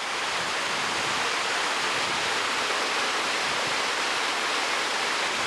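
A Colorado mountain stream rushes loudly and steadily at close range, a dense unbroken hiss of flowing water with no distinct splashes and no talking.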